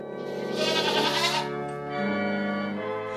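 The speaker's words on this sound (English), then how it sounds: "those are goats singing along to O Come All Ye Faithful" Goats bleat loudly along with a large organ playing O Come All Ye Faithful, a held bleat wavering over steady sustained organ tones with a second goat cry joining midway.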